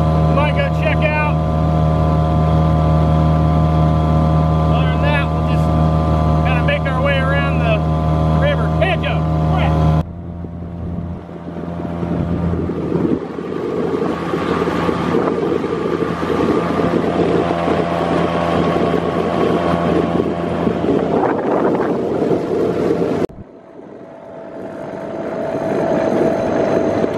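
Light motorboat running steadily across the water, its engine drone loud and constant, then shifting in tone with wind buffeting before cutting down sharply and building again near the end.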